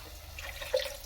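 Water is poured into a pan of roasted ground coconut curry paste for an okra curry, a brief close splashing trickle that rises to a short gurgle near the end, fairly quiet and without speech.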